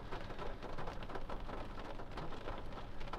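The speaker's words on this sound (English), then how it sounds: "There go the rain. It started, it stopped, and now it's starting again." Steady rain falls and patters on surfaces close by, a continuous dense hiss with faint low rumbling underneath and no voices.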